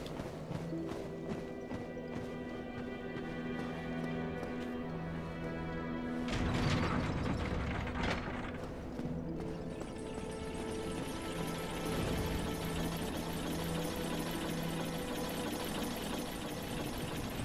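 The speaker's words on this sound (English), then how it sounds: "Getting back there should just be a hop, skip, and a jump away. Or elevator ride, to be more precise." An elevator mechanism in the video game Dark Souls: a steady, droning mechanical rumble with a sustained tonal hum, broken by a louder clanking burst partway through, with no talk.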